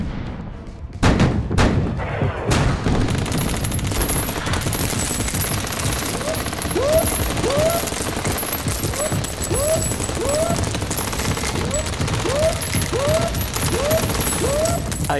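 Naval guns boom in World of Warships, heavy battleship salvos at the start followed by a long rattling barrage of rapid fire and whistling shells, loud and continuous throughout.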